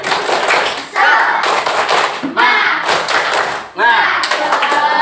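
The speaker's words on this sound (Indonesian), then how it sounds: "Baik, tepuk semangat." A primary school class in a religious education lesson claps out the tepuk semangat routine, with loud rhythmic bursts of claps and chanting voices separated by short pauses.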